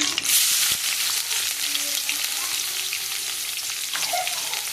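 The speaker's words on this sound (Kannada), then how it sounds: "ಸ್ವಲ್ಪ ಈರುಳ್ಳಿ ಹಾಕ್ತೀನಿ" Onion drops into hot oil with bay leaf for egg masala, setting off a loud, close, dense sizzle and crackle that holds steady throughout.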